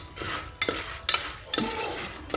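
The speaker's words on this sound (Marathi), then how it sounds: "आता बघा अशा प्रकारे मिक्स करून घ्यायचं तेलामध्ये" A spoon stirs popcorn kernels with turmeric and salt in hot oil in a pan, giving a few distinct scraping strokes over a soft, steady sizzle, close and fairly quiet.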